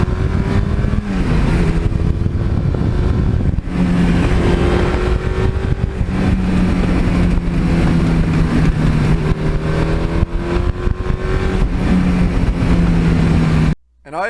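A 1982 Suzuki GS1100E motorcycle engine roaring through a burnout, a loud, sustained rough drone with rising and falling revs that ends abruptly.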